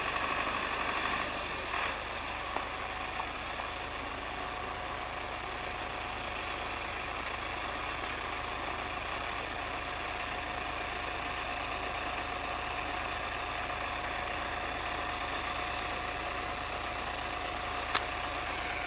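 An MTZ-82 tractor's engine runs in low gear near a swamp, a faint, steady drone with a thin constant whine over it and a couple of small knocks, heard from some distance.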